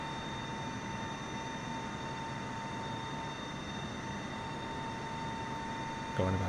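Steady in-cockpit drone of Boeing 747 engines running at full power in Microsoft Flight Simulator, a constant broadband roar with faint tonal hum held evenly throughout, no talk over it.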